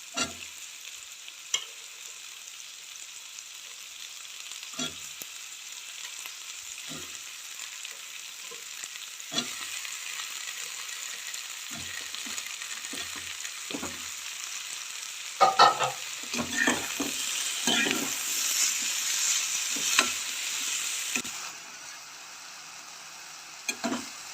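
Vegetables sautéing in a pan for white sauce pasta, with a steady sizzle and repeated scraping stir strokes that grow louder and busier toward the end, close and alone with no talk.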